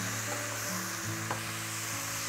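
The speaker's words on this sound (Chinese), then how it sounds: "现在就可以把花菜倒进来了" Cauliflower tipped into a hot wok, a steady close sizzle with soft scraping and a brief clatter, no talking.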